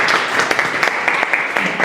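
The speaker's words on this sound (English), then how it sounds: "Maybe a round of applause for Miha." Audience applause follows a talk at a blockchain conference, a short burst of clapping from a small crowd, moderately close and steady with a few louder claps standing out.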